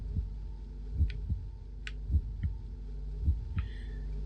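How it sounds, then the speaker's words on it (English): A slow, steady heartbeat thumps from the Scavenger SV-4 game during radiation exposure, with paired low beats roughly once per second over a faint hum and a few soft electronic blips, with no talking. "you can hear that heartbeat."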